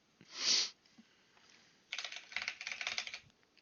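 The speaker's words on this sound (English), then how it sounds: "What in the world are you typing?" Keys tapped rapidly on a computer keyboard in a quick burst after a short sniff-like noise, close and fairly quiet.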